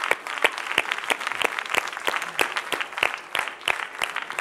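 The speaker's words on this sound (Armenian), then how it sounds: "Եկեք եւս մեկ անգամ ծափարենք այս զույգին։" Dense, steady applause from a large audience for a dance couple at a gala concert of a televised dance competition. The claps are crisp and continuous, close and loud, with no talk over them.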